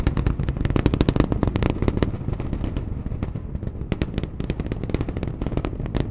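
SpaceX Super Heavy booster launching Starship on its fifth flight, climbing about a minute into ascent near max Q: a loud, continuous crackling roar with dense rapid popping bursts throughout.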